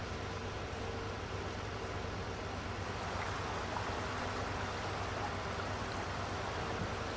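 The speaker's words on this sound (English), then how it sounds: "I keep hearing water sounds." Water flowing over an underground aquifer in Farming Simulator 19 on the Michigan map: a continuous rushing, hissing stream sound, steady and fairly loud throughout with no breaks.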